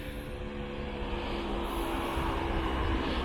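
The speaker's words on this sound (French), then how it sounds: "Il y a un tchouk-tchouk qui peine à monter." A heavily loaded small vehicle powered by tiny moped engines labors up a steep slope, its strained engine drone steady and fairly close, a continuous buzzing hum with no talk over it.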